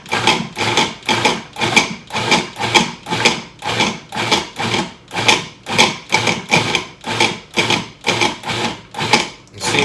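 A food processor pulses cauliflower in batches, producing a loud, close run of short, evenly spaced whirring bursts with brief gaps between them.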